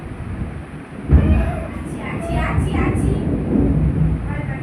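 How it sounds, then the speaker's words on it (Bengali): Thunder from a storm rolls in as a deep, loud rumble that swells suddenly and lingers low beneath a steady wash of rain, while a voice briefly sounds over it. "মেঘ ডাকছে দেখেছো"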